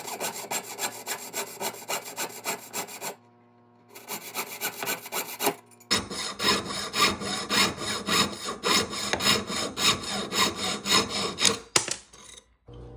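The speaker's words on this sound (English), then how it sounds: "The first thing we're going to do is start sawing the letter" Steady rhythmic sawing through a metal pendant letter with fast back-and-forth rasping strokes, loud and close, pausing briefly before continuing.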